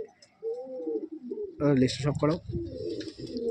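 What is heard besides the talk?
Madrasi pigeon cooing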